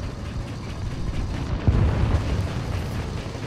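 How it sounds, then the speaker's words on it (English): Bombs dropped by a bomber in a combat video game burst in a rumbling, low-heavy explosion, with a sharper boom near the middle rolling into sustained thunderous noise, no talking. "what is with this bomber and dropping bombs late?"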